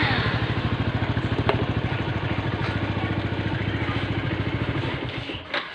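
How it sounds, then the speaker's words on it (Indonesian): A Yamaha LC135 motorcycle with a sputtering fault idles close by in a steady, rapid chugging beat that stays even, then falters briefly near the end. "sekarang motor ni ada problem semput kan?"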